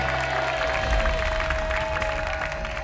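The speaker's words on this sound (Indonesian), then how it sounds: "cukup tepuk tangan dulu buat tebakan para panelis" Studio audience clapping on an Indonesian TV talent guessing show, a steady wash of applause running throughout with a faint tone underneath and a low hum.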